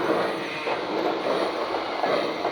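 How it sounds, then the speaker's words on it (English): A Lionel model freight train set, the Cumberland Valley Wayfreight, rumbles steadily along a layout, with a continuous close rolling whir and slight rhythmic variations as it pulls up. "Now, as the train pulls up here, we'll take a look at some of the freight cars."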